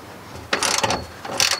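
A ratchet tightens the strut top mount nuts on a BMW E30, giving two close, quick bursts of clicking pawl strokes separated by a brief pause.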